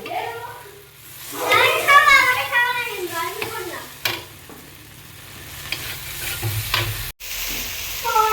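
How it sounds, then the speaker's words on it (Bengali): Masala spice paste being stir-fried in a pan at home, with a steady sizzle and scraping stirs running under a woman's close, continuous talking. "চলো আমরা মশলাটা কষিয়ে নিচ্ছি"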